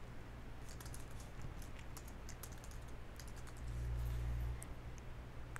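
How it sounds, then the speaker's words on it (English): Typing on a computer keyboard produces quiet, irregular clicking taps throughout, faint and close, with a low steady hum beneath. "you can type anything you want."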